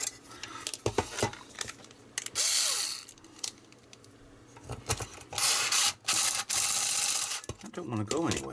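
A screw being driven into an Atari 2600 Heavy Sixer console during restoration, heard as intermittent scraping and ratcheting with bursts of louder mechanical grinding, alongside occasional handling noise.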